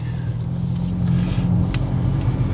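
A Volkswagen Golf GTI with a real metal exhaust revs, a loud, deep rumbling drone held steadily close by across the whole stretch.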